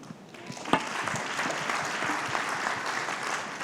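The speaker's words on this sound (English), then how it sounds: "a round of applause once more for the Honorable Minister, Piyush ji" An audience at an economic conference claps for a government minister's address, starting with a sharp clap and building into sustained, even applause from a large hall.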